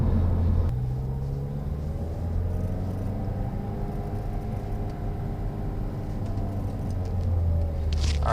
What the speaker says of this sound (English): this is the first-hand point of view of ripping it through first and second